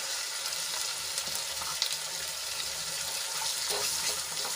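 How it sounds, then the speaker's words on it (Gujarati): Ginger, garlic and chili paste with onion sautéing in a pan, a steady soft sizzle and fry running throughout with faint stirring scrapes, no talking. "આદુ લસણ અને મરચાંની પેસ્ટ થોડી સંતળાઈ જાય એટલે એમાં આપણે ડુંગળી એડ કરી લઈશું"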